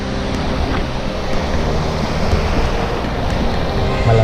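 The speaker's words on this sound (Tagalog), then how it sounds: "Malakas yung alon, hangin na." Strong sea waves surge continuously with gusting wind buffeting the microphone, loud and close throughout, on a fishing outing at sea.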